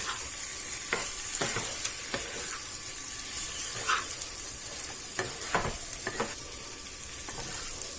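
Okra and onions are stirred in a pan over a medium gas flame, with a constant frying sizzle and repeated scraping strokes of a spoon against the pan, close and even.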